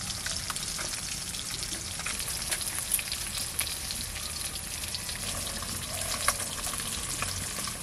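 Black carp tail pieces frying in hot oil in a pan, with a dense, steady sizzle and occasional sharp pops throughout; no one talks.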